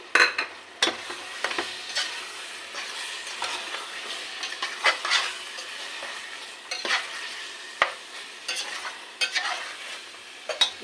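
Whole spices with bay leaf, coriander and cumin frying in oil in a pan as masala for chatpati, stirred steadily: a continuous close sizzle punctuated by sharp spatula scrapes and taps against the metal, no talking.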